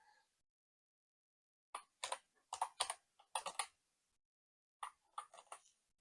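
Login credentials are typed on a computer keyboard in quiet, close clusters of crisp key clicks, with a long pause between bursts and no talking.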